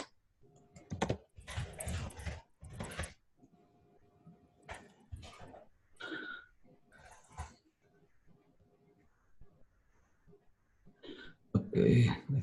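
Bursts of clicking computer-keyboard typing come in uneven clusters, close and fairly loud, with pauses between and a voice speaking over parts of it.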